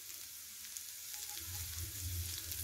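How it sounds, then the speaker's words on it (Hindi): Quinoa stirred while it roasts in a pan, a soft steady sizzle that swells louder after the first second and carries on without talk. "1 मिनट तक इसी तरह से चलाते हुए भूनेंगे।"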